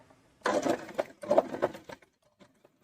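A sewing machine stitching a salwar runs in two short bursts of rapid mechanical whirring and clatter, close and moderately loud, followed by a few faint clicks.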